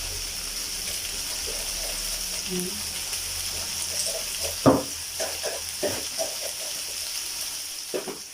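Chicken sizzling and frying in hot oil in a pan for arroz caldo, a steady crackling hiss with a few louder spits and stirring clatters over the second half.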